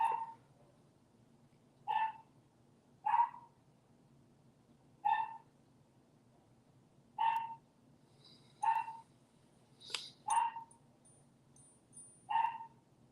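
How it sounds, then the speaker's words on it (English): A dog at home barking in short, sharp single barks spaced a second or two apart, fairly close, with a quiet steady hum beneath and no voices. "Let me go see what she's barking at."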